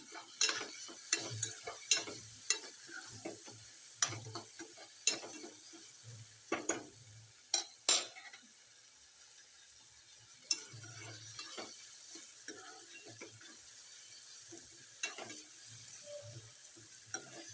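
Tomatoes frying in oil with safflower greens and green chilies, a soft sizzle beneath repeated scraping and stirring clicks of a spoon against the pan, irregular and close, with no talk.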